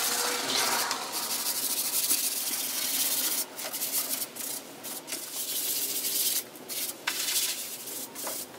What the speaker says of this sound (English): I'm gonna lightly sand in between coats for the clear coat as well